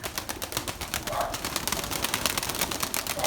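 Pigeons just let out of their loft coo and flutter close by in a steady, busy stream of soft calls and rustling, with no talk.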